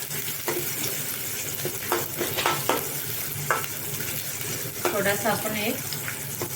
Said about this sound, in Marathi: त्याच्यामध्ये मी कांदा घालते. कांदा झाल्यानंतर कढीपत्ता घालते.